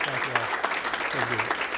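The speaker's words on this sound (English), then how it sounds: "Let's give him a big round of applause." An audience at an indoor meeting claps in a brief, steady burst of applause while a voice speaks over the clapping.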